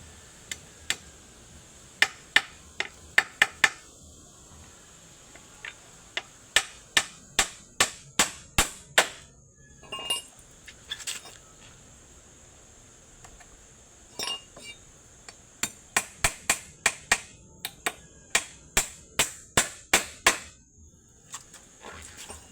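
Sharp metallic hammer blows drive nails into a bamboo teepee frame, coming in quick bursts of evenly spaced strikes with short pauses between runs, close and crisp against a quiet background.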